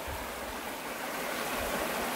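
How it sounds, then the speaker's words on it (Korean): Clear, cool water flowing steadily along a ditch beside rural land in Yangpyeong, a continuous close rushing wash with no voices. "맑고 시원한 물소리 들으면서 오늘 영상 시작해보도록 하겠습니다."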